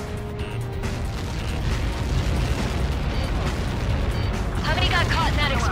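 A missile impact in the combat flight game Ace Combat 7 rumbles as a sustained deep roar that swells and lingers, with radio voices talking over the end.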